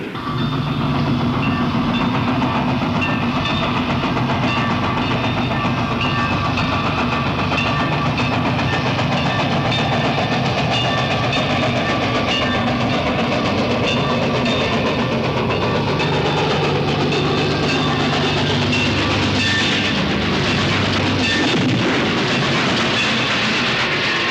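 A train rolls steadily along the rails with a constant loud rumble and rattling clatter, continuing without pause throughout.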